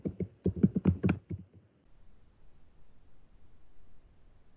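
Typing on a computer keyboard while entering text into a PowerPoint slide: a quick burst of close key clicks, then near silence with faint hiss.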